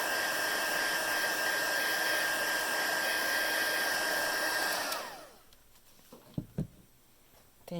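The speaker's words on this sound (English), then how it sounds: "And again, starting to emboss." A heat embossing tool blows hot air in a steady, close, hissing rush like a small hair dryer for about five seconds, then cuts off, leaving quiet with a few soft taps.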